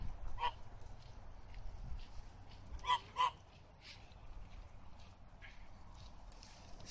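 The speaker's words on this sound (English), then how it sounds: "So you got a duck and a geese. Pretty sure they're geese." Geese at Lake Guyatt give a few short, nasal honks, one on its own and then a quick pair, moderately close and standing out over a low, steady outdoor background.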